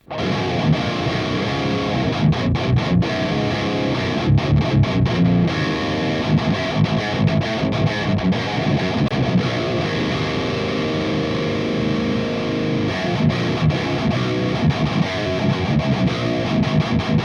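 Heavily distorted electric guitar through the Audio Assault AHM 5050 amp simulator plays metal chugging riffs and sustained chords, loud and dense throughout, with no talking.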